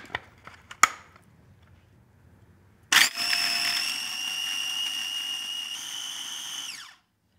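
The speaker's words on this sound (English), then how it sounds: "This is actually a mini processor." A mini food processor chops and grinds a dessert crumble, its motor starting abruptly with a loud, steady whining whir that runs for about four seconds and then winds down, after a few faint clicks and handling knocks.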